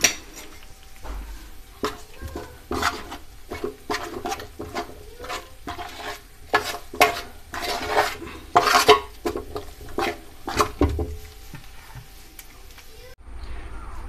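A spoon mixing a yogurt barbecue marinade in a bowl, with repeated clinks and scrapes against the dish in an irregular rhythm, close and fairly loud.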